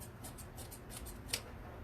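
Scissors snipping decorative mesh for a queen bee swag: a quick run of about nine soft, rhythmic cuts close by, with one sharper snip near the end, against a quiet room.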